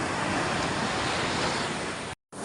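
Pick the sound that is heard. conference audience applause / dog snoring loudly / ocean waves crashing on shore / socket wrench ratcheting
ocean waves crashing on shore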